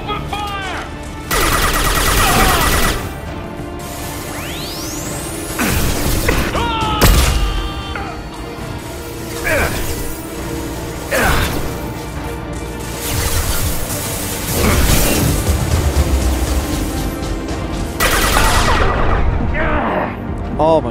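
Gunfire in Mass Effect 2, heavy bursts and booming shots recurring every few seconds alongside crashing impacts and sweeping effects, with voices shouting in between.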